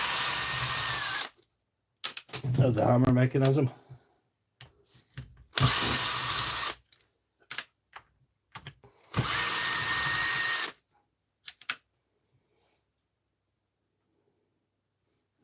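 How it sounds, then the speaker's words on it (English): A power driver backs screws out of a DeWalt hammer drill's hammer case in three loud, whirring bursts of a few seconds each, with ratcheting clicks and short quiet pauses between them and a brief spoken remark. "I'm just pulling the screws out of the hammer case in here."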